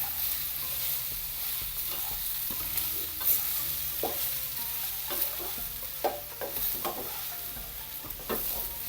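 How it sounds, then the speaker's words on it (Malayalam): Tomatoes sautéing in a pan give a steady low sizzle, with frequent scraping stirs and clinks repeating throughout. "തക്കാളി ഒന്ന് വഴന്ന് വരണം."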